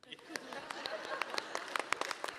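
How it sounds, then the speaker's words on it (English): Faint applause from a convention panel audience at a Lost Boys reunion, distant scattered claps over a murmuring crowd. "Round of applause."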